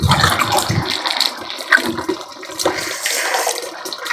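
Water gushes and splashes steadily from a pot while making castor oil in a village, a continuous rushing pour with gurgling swells, close and moderately loud without any voices.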